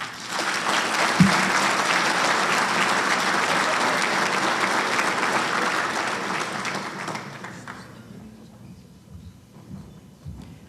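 A room full of people at an awards dinner applauds loudly and steadily, then the clapping thins out and fades to a few scattered claps.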